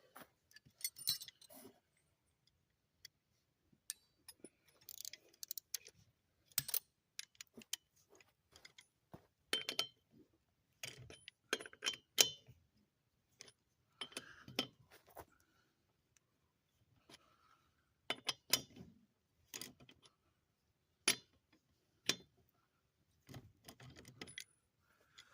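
Metallic clinks and ratcheting clicks from a lug wrench working the lug nuts loose on a 2013 Ford Transit Connect front wheel, coming in irregular bursts over roughly 25 seconds with quiet gaps between, no talking.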